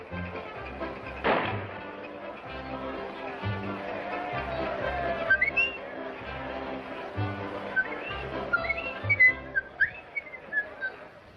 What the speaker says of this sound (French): Monte sur l'estrade et siffle Dixie.